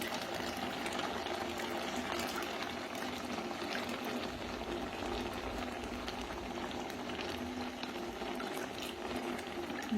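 Tamarind water for a coriander leaf chutney going into a mixture, heard as a continuous watery bubbling and trickling that stays steady and fairly quiet throughout, with no talk.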